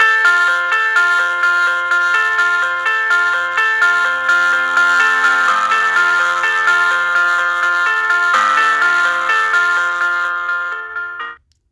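Music with bright ringing, chime-like tones fades out over the last second or so after an editing fade is applied in the PowerDirector video editor; no voices are heard.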